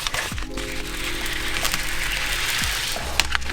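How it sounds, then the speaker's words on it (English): Adhesive backing being peeled off a panel in a Toyota Soarer's air suspension trunk setup gives close, crackling, tearing noises that run continuously, with a few sharper snaps. "we'll peel the backing off and put it in the trunk"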